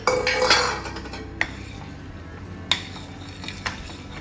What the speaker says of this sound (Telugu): మనం జీడిపప్పులు కిస్మిస్లు వేసుకున్నాం కదండి, ఇవి కూడా వేసుకోవాలండి.